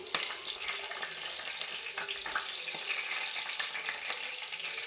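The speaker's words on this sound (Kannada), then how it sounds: "ಇದಿಷ್ಟನ್ನು ಆ್ಯಡ್ ಮಾಡಿ ನಾವು ಫ್ರೈ ಮಾಡ್ಕೊಬೇಕು" Spices and green chillies sizzle steadily in hot oil for a chicken dum biryani, a dense, bright crackle with faint stirring scrapes, close and continuous with no talking.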